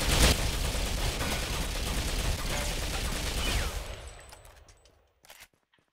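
Burst-mode gunfire in the shooter video game Ghost Recon Phantoms, a dense, loud run of rapid shots fired with a medium barrel, then tapering off into a few scattered final shots and silence.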